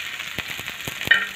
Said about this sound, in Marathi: लसूण पण आपला आता मस्त फ्राय झालेला आहे.